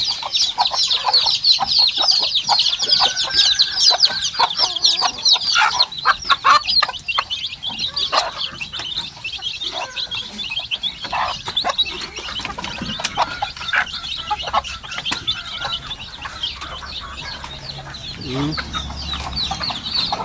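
Hens cluck steadily alongside a brood of black chicks peeping, a busy, continuous farmyard chatter heard up close with occasional louder calls and faint background noise.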